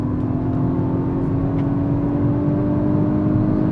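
A Hyundai i20N hot hatch accelerates hard in third gear from around 100 km/h, its engine note a loud, steady rising drone heard from inside the car with no voices.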